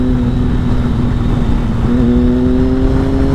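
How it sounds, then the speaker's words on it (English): A 2005 Triumph Sprint ST triple-cylinder motorcycle engine drones steadily at close range through its under-seat exhausts, its pitch rising slightly as it revs partway through. "Listen to that triple engine."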